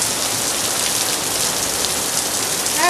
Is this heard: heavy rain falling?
yes